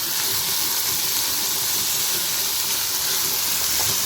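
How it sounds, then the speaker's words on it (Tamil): Onions sautéing in oil for mango vathal kuzhambu, a dense steady hiss of frying that stays loud and even throughout without pauses or voices. "இப்போ வெங்காயத்தை நல்லா வதக்கிக்கலாம்"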